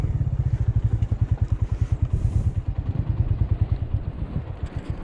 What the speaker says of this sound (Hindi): भाई फंस गए हैं उनसे बाइक नहीं चढ़ रही